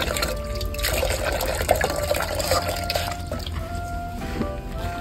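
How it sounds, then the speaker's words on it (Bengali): Water splashes and trickles steadily onto a homemade organic NPK fertilizer mix, a close, continuous wet pouring and dripping sound with no talk. "এরপর এর মধ্যে হালকা করে জল ছিটিয়ে দেব।"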